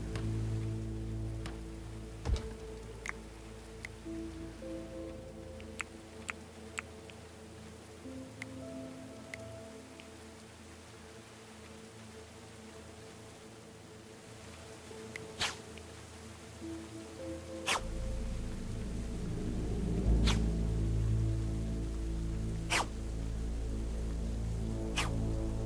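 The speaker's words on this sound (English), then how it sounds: "It looks like rain hinders the training facilities." Rain falling in the Going Medieval video game, a steady soft patter with scattered sharper drop ticks and a low background drone, growing slightly fuller toward the end with no talking.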